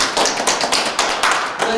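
A few people clap steadily together at a live cultural talk event, with close, bright applause filling the short moment and a voice faintly underneath.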